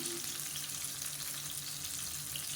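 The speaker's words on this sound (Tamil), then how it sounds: "இப்போ தக்காளி நல்லா வதங்கி வந்துடுச்சு" Tomatoes sautéing in a pan for chutney give a steady, close sizzle and crackle of frying that runs evenly through the whole stretch, with faint stirring underneath and no voices.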